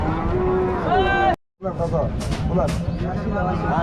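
A bull bellows loudly and close at a busy cattle market in Rajshahi, one long, rising moo that breaks off abruptly, then crowd chatter and voices carry on underneath.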